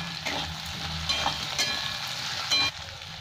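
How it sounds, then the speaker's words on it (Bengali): Garlic and ginger paste fries in hot oil with a continuous close sizzle and a few scraping stirs in the pan, with no talk. "খুব ভালো করে একটু ভেজে নেবো।"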